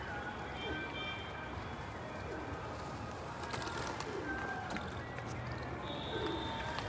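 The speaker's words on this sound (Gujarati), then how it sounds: "કેટલા બધા પક્ષી ઉડે છે કબૂતરો બધા કબૂતર" A flock of pigeons feeding on scattered grain at dawn during Makar Sankranti, with continuous soft cooing and fluttering wingbeats forming a dense, steady bed of sound, a few higher bird chirps and faint voices mixed in.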